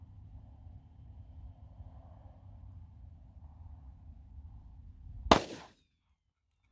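A single loud .45 ACP pistol shot cracks out over a low, steady background rumble, then cuts off sharply into near silence.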